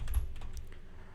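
Quick keystrokes on a computer keyboard while coding JavaScript, a short run of soft close taps and clicks at an uneven pace, with no voices.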